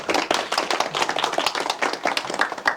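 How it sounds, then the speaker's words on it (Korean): Steady, dense clapping from an audience at a university lecture forum, a continuous round of applause with no speech. "지금 바로 뜨거운 박수와 함께 강의를 시작하도록 하겠습니다."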